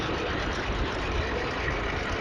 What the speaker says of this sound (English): Richie Zanzani iron horse motor plough.